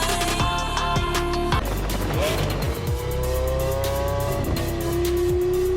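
A car's engine and tires screech under loud background music as the vehicle brakes hard, with rising and sliding tones through the middle and a steady roar continuing to the end.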